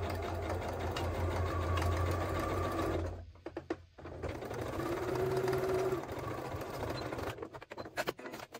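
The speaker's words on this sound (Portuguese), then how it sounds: "Baixar a agulha e vou dar um pequeno retrocesso aqui e já vou começar minha costura aqui" A sewing machine stitches fabric with a short reverse stitch, giving a steady close mechanical whir that pauses briefly with a few clicks, then resumes and ends in choppy bursts.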